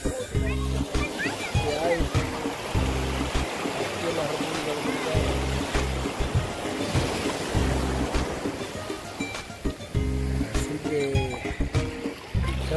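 Atlantic Ocean waves wash along the Dominican Republic coast in a continuous surf rush under someone talking throughout.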